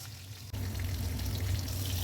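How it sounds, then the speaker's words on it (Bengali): A fish head rubbed with salt and turmeric hits hot oil. A sudden, loud, close sizzle bursts in after a quiet moment and keeps going steadily, with a low bubbling rumble beneath. "তেল গরম হয়ে গেছে, মুড়োটাকে ভালো করে ভেজে ফেলবো, কড়া করে ভাজতে হবে।"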